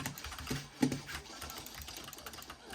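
Someone types quickly on a quiet optical-switch computer keyboard, giving a soft, steady patter of close keystrokes over faint background noise.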